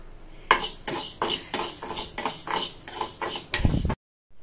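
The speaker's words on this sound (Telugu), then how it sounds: "అవి ఫ్రై చేసుకుందాము." A spoon tapping and scraping in a pan as two spoonfuls of fenugreek seeds go in to fry for a turkey berry pickle, a run of quick metallic clinks in an uneven rhythm, close and fairly loud, ending abruptly.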